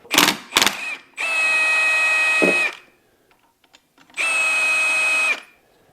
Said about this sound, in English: First thing we need to do is get the bolt out of the clutch here.